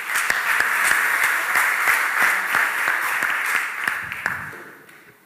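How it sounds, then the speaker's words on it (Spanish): Audience applause at a documentary project presentation in Barcelona, steady dense clapping that holds at full strength for about four seconds and then thins and fades out near the end. "Un aplauso para ellos y empezamos."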